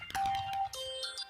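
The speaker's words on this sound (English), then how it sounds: "I am so sorry, that is my phone." A mobile phone ringtone goes off during a Minecraft skyblock gaming session, two bright sustained electronic tones one after another, loud and close, with no talking over it.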